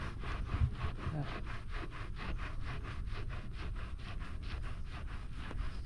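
Hardened dirt is scrubbed and scraped off a tricycle part in steady, rhythmic back-and-forth strokes, a close, even rasping that repeats roughly twice per second.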